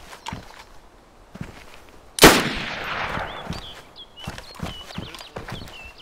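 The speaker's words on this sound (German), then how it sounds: "Ja, ich hab geschossen." Single sharp sniper rifle shot in DayZ Standalone cracks loudly about two seconds in and trails off in a short echo, with quiet footsteps and bits of talk around it.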